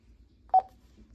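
A single short keypad beep from a two-way radio being manually dialed, a brief clear tone standing alone over faint background hum.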